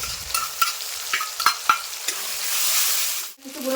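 Onion and tomato fry in a pan as ginger and green chili paste goes in, a bright sizzle broken by several sharp stirring scrapes, then a swelling hiss that dips briefly before resuming.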